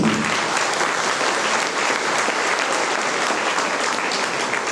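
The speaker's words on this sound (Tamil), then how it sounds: "அவங்களுக்கு நம்மளுடைய கரகோஷத்தை எப்படி கட்டணும்" A school annual day audience applauds, a dense, loud and steady roar of many hands clapping that continues without a break from start to finish.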